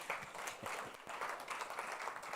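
A small audience at a live-streamed student event claps for a professor, a thin, quiet patter of hands that lasts a couple of seconds with scattered sharper claps.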